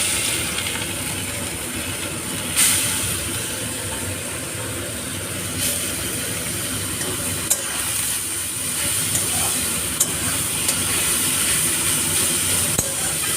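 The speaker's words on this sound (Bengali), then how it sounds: "গাজরগুলো একটু ভালো করে ভেজে নেব" Grated carrots frying in hot ghee for carrot halwa, a steady soft sizzle and hiss with occasional light stirring clicks and scrapes, close and uninterrupted, no talk.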